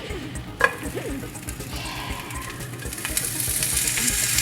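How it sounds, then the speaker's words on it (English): Steady frying sizzle crackles and spits in a hot pan, growing a bit louder and hissier toward the end, with no talking. "Get ready for the sizzle."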